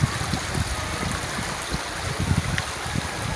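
Spring water in a forest flows with a steady trickling, gurgling murmur up close, with small splashes rising over a continuous wash and no voices.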